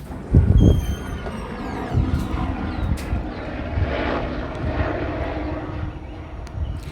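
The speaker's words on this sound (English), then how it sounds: "they arrive in helicopter, meaning they're not going anywhere, sounding as though they're flying right over the top of my office" A helicopter flies overhead with a steady rumbling drone that swells and fades, buffeted by wind noise and faint high whistles, heard alone without voices.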